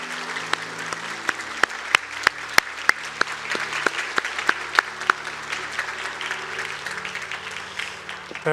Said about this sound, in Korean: 우리 함께 축하하고 박수합시다